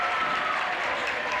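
A lively crowd at a boys high school basketball game, led by a rowdy student section, cheering and clapping in a dense, continuous roar that is moderately loud.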